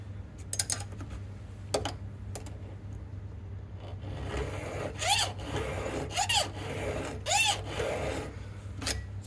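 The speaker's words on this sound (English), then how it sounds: "for anyone thinking of trying square filing" A hand file rasps across metal during square filing, with a few sharp scraping strokes and ticks early on, then a run of rhythmic rasping strokes over a steady low hum.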